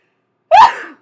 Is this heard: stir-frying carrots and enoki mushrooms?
no